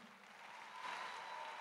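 Women in a church congregation at a live Christian conference applaud together in a steady, even wash of clapping that lasts the whole moment at moderate, slightly distant loudness.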